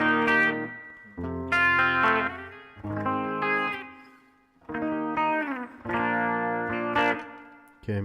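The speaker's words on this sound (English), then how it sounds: "let's add a little bit of spring reverb." Electric guitar chords through a Line 6 Pod Express ring out one after another, each trailing off with a springy, splashy reverb tail.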